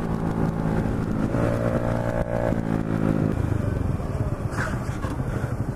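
A slammed, stretched-out Honda Ruckus 49cc scooter runs steadily close by, its small engine droning and buzzing through the whole stretch with a slight pitch rise partway through.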